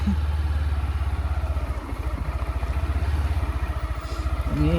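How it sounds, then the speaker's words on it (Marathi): A motorcycle engine on a ride toward Raigad Fort thumps in a fast, steady, close idle-like rhythm throughout, loud and even, with a brief faint voice near the end. "बाईक ही बघू शकताय, बाईक आजचा आवाज आहे"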